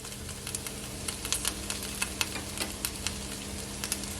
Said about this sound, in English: I'm just gonna saute it, guys, for at least 1 minute or so